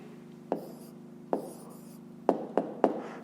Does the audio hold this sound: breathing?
no